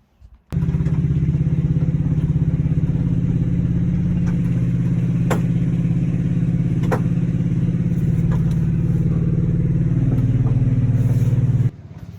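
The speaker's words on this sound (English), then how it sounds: "grandpa's gonna pull me with the four-wheeler over the pit" A four-wheeler ATV idles and pulls steadily as it tows a Datsun car over a pit, a loud continuous engine drone with faint clatter, ending abruptly near the close.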